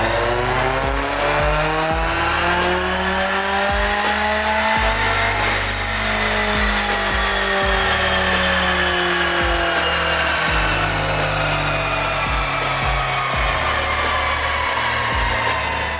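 A Subaru WRX fitted with a Perrin equal-length header revs hard on a dyno, its engine note climbing and holding loud and close for a long sustained pull.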